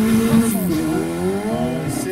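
A 2005 Ford Fiesta ST race car prepared by Lortec climbs a historic hill climb course, its engine note rising and falling through the gears as it passes fairly close and loud, with no talk.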